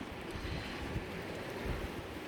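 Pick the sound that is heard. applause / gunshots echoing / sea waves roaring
sea waves roaring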